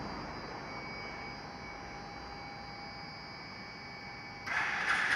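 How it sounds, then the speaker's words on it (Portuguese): A parked motorcycle engine starts up on its own, a sudden louder surge after several seconds of steady low idle-like hum, continuing as a close, constant engine drone. "A moto deu partida."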